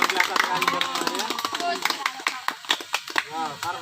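A crowd of school students at a long jump lesson claps in scattered applause while a voice talks over it, lively and close.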